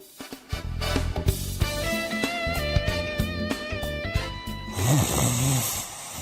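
Loud, rhythmic snoring over a steady low drone, repeated rasping breaths cycling several times, ending with a deeper, throatier snore.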